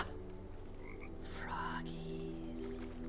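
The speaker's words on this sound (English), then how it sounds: "Is that a froggy?" A frog croaks in the video game The Talos Principle II, a few low, rasping calls over a steady hum of ambient game music and background tones.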